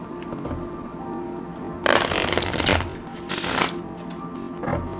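Two quick bursts of oracle cards being shuffled close by, crisp riffling rustles separated by a short pause, with quiet background hum.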